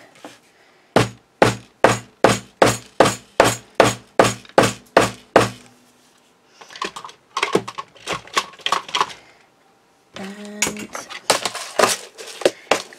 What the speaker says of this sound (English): get my hammer out again and just give that a tap